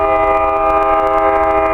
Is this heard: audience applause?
no